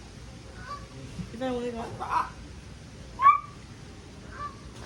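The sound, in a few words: person imitating goose honks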